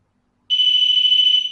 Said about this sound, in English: I'll give you an example, and it will beep